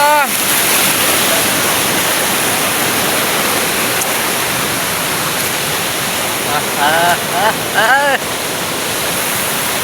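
Loud, steady roar of rushing river water fills the scene throughout, with a few brief faint voices rising over it near the end.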